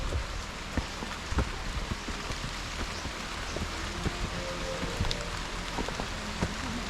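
Steady rain falling on a rocky, slightly muddy grassland hiking trail, with a dense constant patter, scattered close drop hits and light wind, and no talk.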